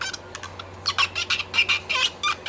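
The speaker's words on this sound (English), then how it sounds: "if you hear that squeaking sound, you'll know that basically means that your apple is wax free" Rapid series of short, high squeaks close by as a wax-free apple is rubbed with a rag or fingertip, in quick uneven bursts.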